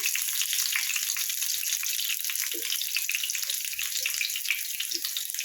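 Masoor dal fritters with pui greens frying in a little oil give a steady, close, bubbling sizzle throughout, with faint scattered knocks beneath.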